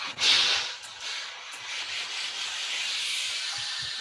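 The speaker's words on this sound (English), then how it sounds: "Just all around, and again give a good steam." Steam iron hissing as it steams a shirt sleeve cuff, a sharp loud burst at the start settling into a continuous close steady hiss.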